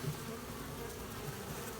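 Honeybees swarm around a backyard cable box during a hive removal in spring in Texas, giving a dense, continuous buzzing hum close by with no talk.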